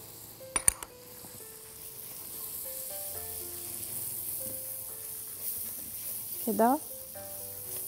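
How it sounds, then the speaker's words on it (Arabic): Turmeric and curry powder hit hot frying oil for a vegetable yellow rice, giving a faint, steady sizzle beneath a voice and a few sharp utensil clicks. "هحط دلوقتي الكركم والكاري في التحميره دي عشان يطلعوا من الطعم بتاعهم"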